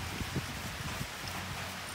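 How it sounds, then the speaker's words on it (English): Steady rain patters down outdoors beside a Holden Rodeo with a 4JH1TC diesel engine under repair for a fuel pump change, a dense, even wash of drops with a few louder splats close by and no talk. "the rain's got a lot heavier"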